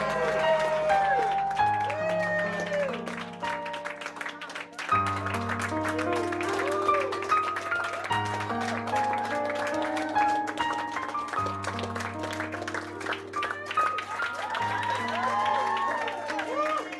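Fans pack a hallway, cheering and clapping steadily beneath a loud, stepping musical score, with whoops and crowd noise continuing throughout.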